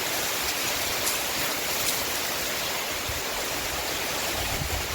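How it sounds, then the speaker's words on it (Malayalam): Heavy downpour in Mangalore, a steady dense hiss of rain filling the whole stretch at constant loudness, with no talking. "നല്ല മഴ കേട്ടോ, മഴ എന്ന് പറഞ്ഞാൽ പെരുമഴ."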